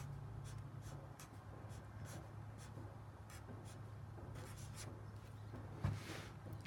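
Pencil strokes scratch faintly across paper while sketching plants, a quiet series of short, irregular rubs and taps heard alone in a calm room.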